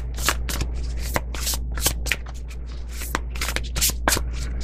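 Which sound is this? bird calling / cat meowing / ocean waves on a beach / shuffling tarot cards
shuffling tarot cards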